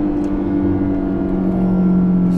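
A steady, low engine drone hums inside the cabin of a Porsche Panamera 4 E-Hybrid, constant and moderately loud with no voices.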